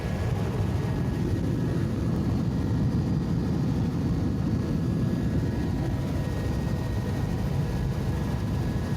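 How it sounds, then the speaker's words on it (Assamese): A helicopter in flight near the Hagrama bridge, heard from on board as a steady, loud low engine and rotor drone that holds unbroken throughout with no speech. "হেলিকপ্টাৰ তলেৰে নমা নিচিনা হৈছে"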